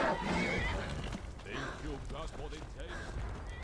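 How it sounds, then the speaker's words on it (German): Horses in the video game Skyrim neighing loudly up close, followed by thudding hoofbeats and further whinnies, with someone talking over much of it. "Da kommen einfach Pferde rausgerannt und kämpfen."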